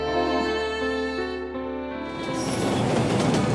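Train ride in the video game Root Letter: a steady rumble with sustained musical tones fades into a rising noisy rush of rolling rail sound, fairly loud.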